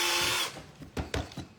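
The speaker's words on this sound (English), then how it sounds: "you do want to drill 2 holes right next to each other" A power drill runs briefly at high speed, boring holes in wood for a sugar glider toy, then stops and is followed by a few knocks and clunks nearby, with no talk.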